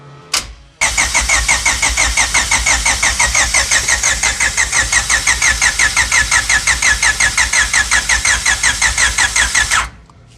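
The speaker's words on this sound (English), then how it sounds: "Motor's turning. Clutch doesn't seem to be seized." A Honda H22 engine in a track hatch being turned over by the starter, cranking in a fast, even rhythm for about nine seconds without firing, loud and close, with a click at the start.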